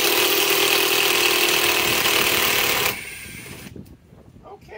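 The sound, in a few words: Metabo cordless driver driving screws into sheet metal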